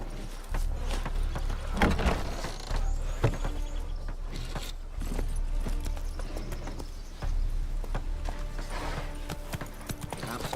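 Roach the horse gallops in The Witcher 3, hooves clip-clopping in a fast, uneven rhythm over a low rumble, loud and close, with no talk.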